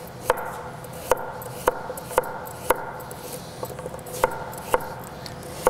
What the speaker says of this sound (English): And then I have some carrots. Oh, tiny potato here. And just slice them.